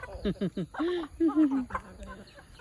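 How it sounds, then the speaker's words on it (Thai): Chickens clucking and calling close by in a rural Thai farmyard at morning feeding time, a few short clucks and a drawn-out call over a couple of seconds. "ไก่ได้กินแล้วค่ะ"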